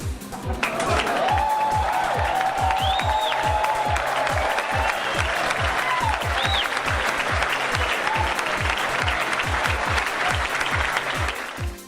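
A large expo audience applauds loudly after a game console price announcement, sustained clapping with scattered cheers and whistles carrying on steadily throughout.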